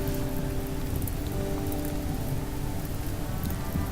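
Rain in the video game Rimworld pours steadily as a dense, even hiss of drops on surfaces, loud and unbroken throughout with no other sounds.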